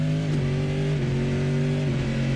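Big American V8 of the RSS MP-H Callahan race car in Assetto Corsa, a loud, steady low rumble with pitch dipping and rising slightly through gear or throttle changes, no talking.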